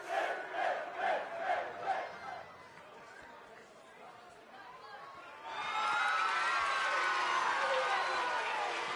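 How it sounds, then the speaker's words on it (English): A wrestling crowd at a live pro-wrestling event cheers and chants in rhythmic bursts, then swells into a loud, sustained roar of cheering and shouting from the full arena. "Crowd clearly behind Finn Balor"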